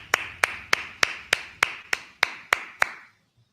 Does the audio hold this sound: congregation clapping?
yes